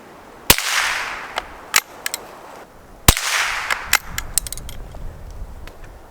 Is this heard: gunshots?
yes